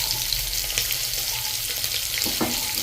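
Hot oil sizzling steadily in a pan before a vegetable omelette goes in, a continuous close hiss with a few faint clinks, no voices.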